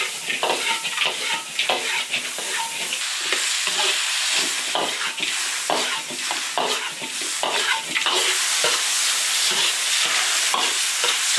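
Lamb and pork tripe stir-fried with ginger, pickled chilies and lantern peppers in an iron wok, with loud scraping and clanking spatula strokes over a constant sizzle; no one speaks.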